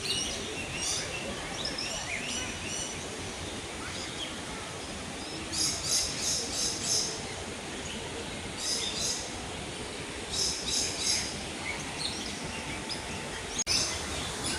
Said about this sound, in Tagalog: Daming ibon ah.